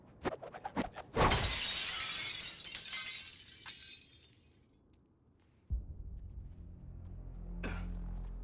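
A pane of glass shatters loudly in Suicide Squad: Kill the Justice League after a few quick knocks, with a long bright spray of falling shards that fades over several seconds before a low rumble takes over.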